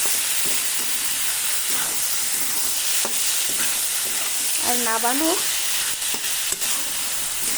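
Bombay duck fish frying with potatoes and tomatoes in a pan, stirred with a spatula: steady close sizzle with scraping strokes, a brief whistle-like tone midway and a voice speaking briefly over it.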